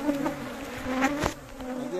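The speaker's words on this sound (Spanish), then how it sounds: "Aquí estamos con la máscara porque están malísimas las abejas." A swarm of bees buzzes close by around a rustic wooden hive box, a dense steady drone with individual bees whining past.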